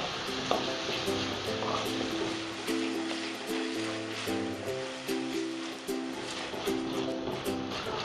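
Tomatoes fry in a pan with ginger and garlic for a spicy dried prawn masala, a steady close sizzle with light stirring scrapes running throughout, while faint background music plays.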